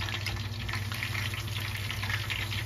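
Taro pieces frying in hot peanut oil, a steady dense crackling sizzle with fine popping bubbles that holds at an even, fairly loud level throughout, with no voices.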